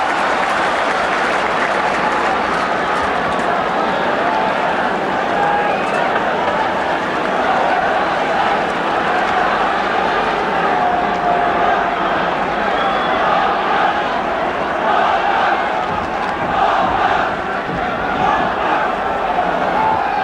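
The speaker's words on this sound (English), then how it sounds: "And suddenly the crowd have come to life." A large football crowd roars at a 1980 Division 1 match between Wolves and Ipswich Town, a continuous loud stadium din with cheering swells and no break.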